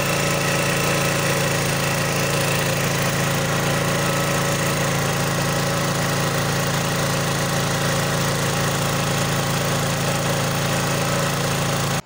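Portable generator engine running at steady speed, a loud, close, continuous buzzing hum with constant pitch and slight vibration throughout, no voices.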